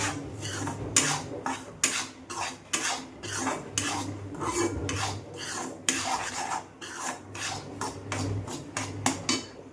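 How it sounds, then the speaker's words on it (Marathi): Semolina roasting in ghee in a kadai for sweet sheera, a spoon scraping and stirring in steady rhythmic strokes, close and moderately loud, with no talking. "आता मी इथे तुपामध्ये रवा चांगला भाजून घेते मस्तपैकी"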